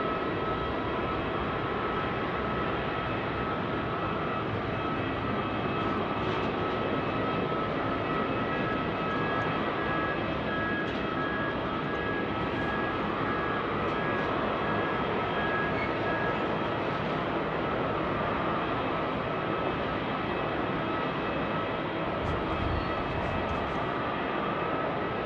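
Steady, continuous jet engine roar at Sydney Airport at night, a broad sustained rumble with no distinct breaks, audible throughout at a constant moderate level with no talk.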